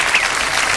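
A studio audience bursts into a short, dense round of applause and cheering for Gervais, loud and close.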